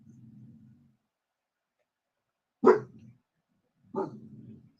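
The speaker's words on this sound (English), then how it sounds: "I'm sorry, my dog's ready to act up." A pet dog barks twice indoors, a sharp close bark followed by a second one about a second later, with low murmuring voices before them and after, in an otherwise quiet room.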